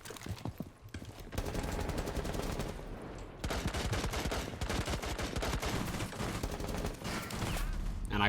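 Rapid gunfire in Rainbow Six Siege as the player is hit: dense, continuous automatic bursts that fill the clip with close, crackling shots, with a brief pause after a few seconds.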